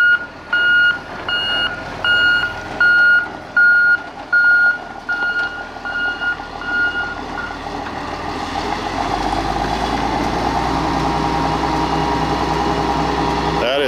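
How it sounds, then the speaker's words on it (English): Loud reversing alarm on a massive forklift, a steady series of evenly spaced high beeps over an idling engine, ending as the engine revs up and grows louder. "That is one loud backup alarm."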